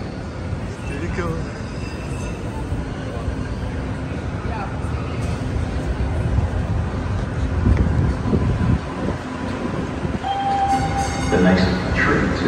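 A Blue Line subway train rumbles steadily throughout, a loud continuous roar of wheels on rails with metallic squeals and rattles, voices faintly beneath.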